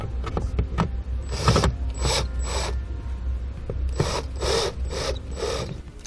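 Supplied screws being tightened to mount a Tekonsha Prodigy P3 trailer brake controller in a 2018 Jeep, heard as bursts of close, rapid ratcheting clicks separated by short pauses.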